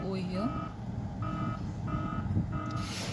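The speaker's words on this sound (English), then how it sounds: "If I keep my eyes closed like this, you can hear the sound alarm over here" A driver passout detector built in Python sounds its alarm when the eyes close: steady repeated electronic beeps in an even on-off rhythm, loud and close, over a continuous background hum.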